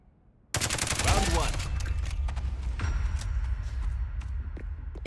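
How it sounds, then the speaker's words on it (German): Gunfire in the shooter game Spectre Divide, with rapid loud shots and a dense burst of firing that carries on for several seconds, heard close. "Ich schätze, das war die Sniper."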